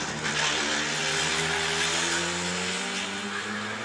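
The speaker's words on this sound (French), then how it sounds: "Vous avez entendu le moteur de la Toyota" A Toyota race car at the 1994 Le Mans 24 Hours roars past with a loud, sustained engine note, steady harmonic whine holding throughout with a slight pitch shift near the end.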